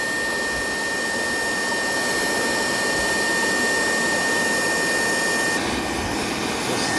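A waste oil burner, now burning on its own after the gas is turned off, roars with a steady, loud, jet-like rush of flame and air that holds constant throughout.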